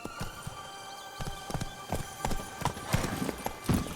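Roach, Geralt's horse in the video game Witcher 3, gives quick rhythmic hoof clops at a gallop, close and fairly loud, with small thuds and rustles between the strikes.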